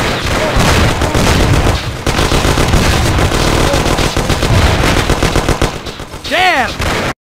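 Dense gunfire and rapid machine-gun bursts fill a shootout in the Mafia (2002) video game, loud and continuous throughout, with a sweeping high whistle near the end.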